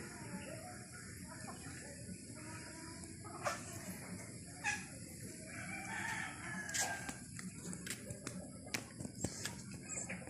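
Chickens on a rural Philippine farm cluck and a rooster crows, fairly faint over outdoor background with someone talking intermittently.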